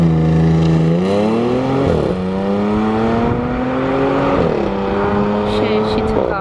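An Audi S4 engine accelerates hard, revving up through gears in rising sweeps with brief drops between shifts, loud and close.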